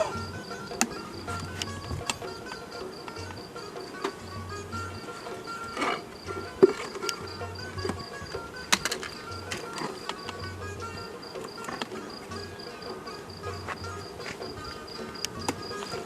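Honey bees swarm around a hive being smoked during a honey harvest, a steady low insect drone running throughout with scattered small knocks and clicks of handling nearby, no voices.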